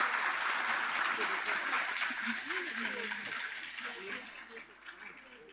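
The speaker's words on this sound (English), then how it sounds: "can we have a huge round of applause for all of the panelists?" Hall audience at a national symposium applauds the panelists, a strong wash of clapping that gradually thins out while voices talk beneath it.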